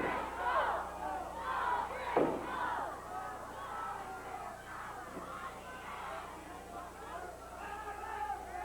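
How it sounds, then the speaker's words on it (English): A large wrestling crowd at a 1988 Stampede Wrestling event chants and roars for Chris Benoit, a dense, sustained wall of voices with a few louder surges. "The crowd is chanting for Chris Benoit."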